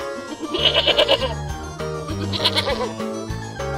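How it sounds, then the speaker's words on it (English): A goat bleats in a run of quick, wavering calls, two bursts of loud, close bleating with nothing else over them. "Goat."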